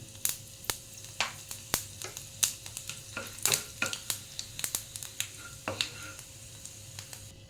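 Fennel seeds frying in hot oil for a vegetarian soybean curry, crackling in sharp scattered pops and ticks over a low sizzle, with occasional scraping of a spoon in the pan.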